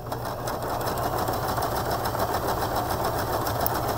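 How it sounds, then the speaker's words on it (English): Close, steady whirring of a sewing machine running continuously with an open-toe foot as it satin stitches down a fabric edge, loud and uninterrupted for a few seconds. "Put my presser foot down, and we'll go ahead and sew down this edge."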